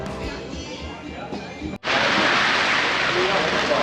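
Heavy rain near a campervan at Saint-Maxime, heard as a dense, loud, steady hiss that briefly drops out, then returns even stronger and continues without a break.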